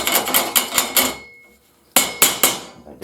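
Sharp, ringing hammer blows bending steel shed parts, about five quick strikes, a pause of near silence, then several more hits, loud and close.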